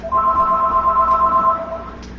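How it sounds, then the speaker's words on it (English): A telephone rings during live home cooking, a steady electronic warble of about one and a half seconds that fades out, heard clearly over quiet room noise. "Of course, the phone is ringing."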